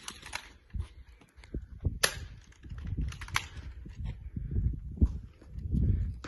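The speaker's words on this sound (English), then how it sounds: "God, those bullets ring." BB guns fire during a 1v1 shootout, with a few sharp, close snapping shots spread irregularly over rustling, movement and low background noise.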